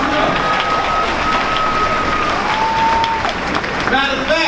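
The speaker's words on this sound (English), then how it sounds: "Come on, clap for the young people." An audience at a university gala claps for two students, steady clapping under a sustained tone, with voices joining near the end.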